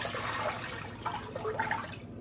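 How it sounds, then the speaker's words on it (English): Filtered water poured from a container into a cooking pan, a steady watery splashing and trickling rush close by that runs continuously for about two seconds before cutting off. "we pour the filtered water into a pan about this size"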